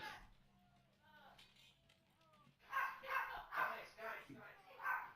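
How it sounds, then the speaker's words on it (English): A small dog named Peanut barking off in the background, a run of five or six sharp, fairly loud yaps in quick rhythm after a few quieter whimpers. "It's the barking dog."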